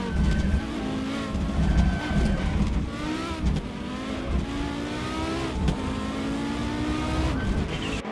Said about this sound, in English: Bot Durafalls is P18 driving a Citroen